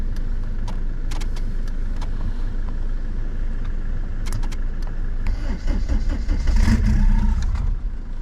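An old car being hotwired and started with bare wires, engine cranking and catching with mechanical clatter and jangling, building to a louder rough running burst near the end.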